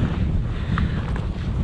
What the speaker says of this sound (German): Man hört es wahrscheinlich her, da bläst der Wind ein bisschen rein.